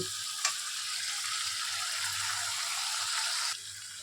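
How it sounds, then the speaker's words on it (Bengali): Spice paste for eggplant mouri jhal fries in oil in a pan, a soft steady sizzle with a brief clink near the start, quiet and without talk. "এই মশলাটা বেশ ভালো ভাজা হয়ে গেছে"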